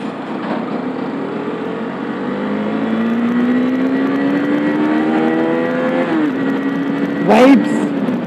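A BS6 Husqvarna Vitpilen motorcycle engine revs up toward redline, its buzzing tone climbing steadily in pitch under wind rush before easing off, loud and close.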